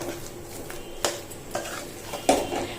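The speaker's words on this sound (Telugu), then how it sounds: "ఇలా మంచిగా మసాలా అంతా ఆలుకు పట్టేలాగా కలుపుకోవాలి. బాగా ఆలునైతే స్మాష్ చేసేయాలండి." Boiled potatoes being mixed and mashed with masala for a puri aloo kurma, soft close stirring with a few spoon taps and clinks against the pan over a faint background sizzle.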